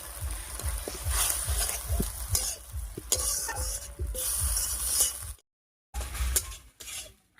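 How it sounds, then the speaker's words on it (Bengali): Potato is stir-fried with spices in a pan: a soft sizzle under a steady run of rhythmic spatula scrapes against the metal, then a sudden silent gap before the scraping resumes. "এবার সবকিছুর সঙ্গে খুব ভালো করে একটু কষিয়ে নেবো আলুটা।"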